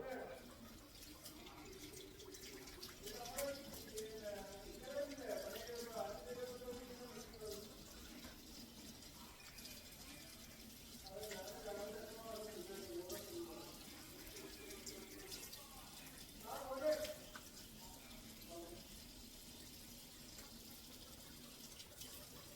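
Water runs from a tap as something is washed under it, quiet and continuous, with soft splashes. Voices talk at a low level over the flow.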